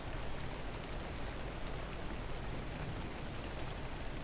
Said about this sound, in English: you're lucky it's raining to wash it off